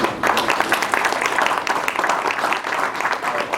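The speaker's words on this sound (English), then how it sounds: "I'd like to give us a round of applause for all the fighters that today" Applause fills a boxing press conference room as the crowd claps for the fighters, a loud, dense and continuous patter of many hands lasting throughout.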